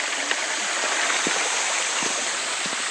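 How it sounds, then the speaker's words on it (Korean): A small, compact waterfall in a mountain valley stream pours steadily, giving a close, continuous rushing hiss with faint low splashes and no talk. "아, 첫 번째 맞이하는 폭포입니다. 조그마한 아담한 폭포."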